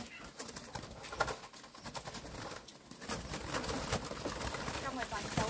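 Young turtle doves struggle and beat their wings continuously inside a basket, a dense close rustling flutter that runs the whole time with no talk.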